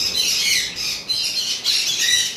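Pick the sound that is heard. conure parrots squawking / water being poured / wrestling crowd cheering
conure parrots squawking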